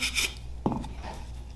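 Brush scrubbing a disassembled hicap 1911/2011-style pistol magazine during cleaning: short close scratchy rubbing strokes with a sharper scrape midway, quiet and brief.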